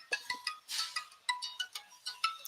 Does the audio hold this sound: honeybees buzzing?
no